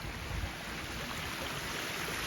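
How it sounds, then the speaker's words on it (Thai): Water flows in a small backyard canal, a steady broadband rush with a soft low rumble, continuous and moderately quiet with no voices. "คลองหลังส่วนของเราน้ำก็จะไหลไปอย่างนี้"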